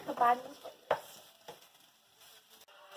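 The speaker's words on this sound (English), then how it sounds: "our onions are cooking, and now we're going to put our tomatoes" Chopped tomatoes drop into onions frying in a pan and get stirred, with a couple of sharp utensil scrapes over a faint sizzle, up close and without talk.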